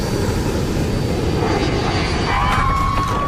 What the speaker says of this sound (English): A passenger jet filled with French families is plunging toward the Red Sea.